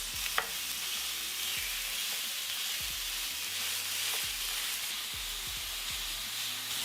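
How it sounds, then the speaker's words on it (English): Ground beef sizzles steadily in a hot pan, a continuous bright frying hiss with occasional soft stirring scrapes underneath, close and even throughout. "you're gonna add your ground beef and you're gonna continue to cook and break down for a good 4 minutes"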